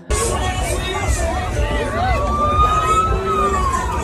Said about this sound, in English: The scene unfolded quickly, and as police sirens began to wail in the distance, Haney and his group scattered.